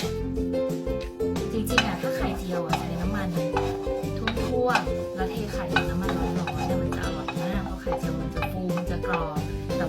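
Oil sizzles in a pan while a butterfly pea flower omelette fries, with scraping and clinking utensil sounds over a steady crackle, and background music playing throughout.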